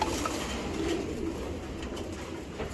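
A racing pigeon hen coos softly and low, a few gentle cooing notes against a steady background hiss and hum, fairly close but faint.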